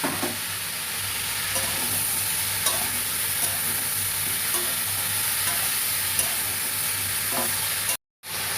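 Banana flower curry with tomato, plantain and banana stem sautés in a pan, a steady close sizzle with occasional stirring scrapes, broken by a brief silence near the end.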